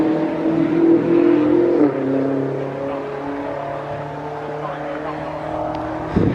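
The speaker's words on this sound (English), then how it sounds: "Very cute VW Beetle now." An early VW Beetle with extra chrome and small bumpers drives away from a classic car event, its engine humming steadily nearby among other idling traffic.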